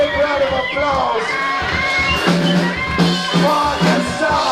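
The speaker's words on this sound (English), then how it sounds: "a big round of applause" Live crowd at a rock show cheering and clapping after a song, with whoops and shouted voices layered over steady applause that swells midway and stays loud throughout.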